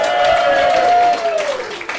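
Audience at a stand-up comedy show applauds in a dense, sustained burst of many hands, loud and close, with a cheer or tonal voice riding over it before the clapping thins out.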